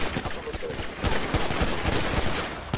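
Rapid bursts of gunfire in a GTA roleplay game session, a dense run of sharp shots close together over continuous background noise, with faint talk mixed in.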